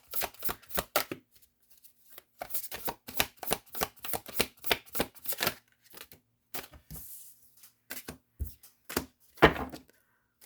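Tarot cards shuffled by hand in a reading, a dense run of crisp riffling bursts and soft slaps in quick irregular clusters, close and moderately quiet, with brief pauses between rounds and no talk.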